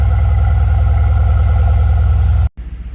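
A 2020 Mercedes-AMG C63S Cabriolet idles outside in the snow with a deep, steady engine rumble that cuts off abruptly, then a lighter, pulsing idle resumes.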